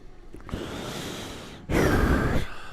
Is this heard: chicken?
no